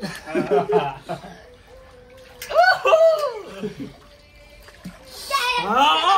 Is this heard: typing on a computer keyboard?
no